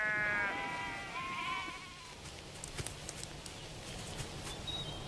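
Sheep bleating on a vast former guanaco hunting ground turned sheep station, several wavering calls crowding the first two seconds, then quiet open-air ambience with faint scattered ticks.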